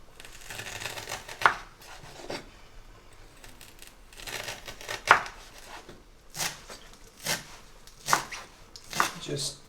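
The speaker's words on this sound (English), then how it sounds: "So I'm just slicing the ginger into fine strips to go" Ginger is cut with a knife into fine strips for a minced beef karahi garnish, with a handful of crisp, separate knife taps on a board spaced across the stretch and quiet kitchen noise between them.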